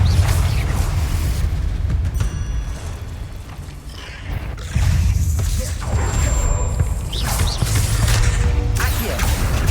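A Confringo blasting spell goes off in Hogwarts Legacy, giving loud booming explosive bursts with crashing impacts over a dense, rumbling combat din.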